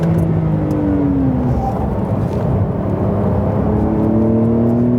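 Porsche 911 of the 992 generation accelerating on a racetrack, its engine note rising steadily in pitch through a gear, loud and close, with a dip around a shift midway and no talking.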